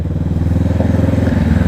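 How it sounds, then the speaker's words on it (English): Kawasaki Vulcan S 650 motorcycle fitted with a Two Brothers full-system exhaust idles and rumbles up close, a loud, steady low throb with a rhythmic pulsing beat and no voices. "He's got a Two Brothers full system exhaust on it and it sounds lovely."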